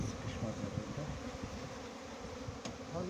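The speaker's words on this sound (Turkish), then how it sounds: "İşçi uçuşa başladı" A steady buzzing hum of many worker honeybees in flight fills the air, fairly quiet and continuous, with no voices.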